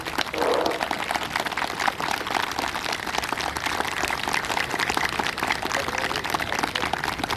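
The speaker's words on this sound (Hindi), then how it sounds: "एक बार जोरदार तालियां आप लोगों की।" A crowd at an International Yoga Day 2023 speech breaks into sustained applause, a dense, even wash of many hands clapping at moderate volume throughout.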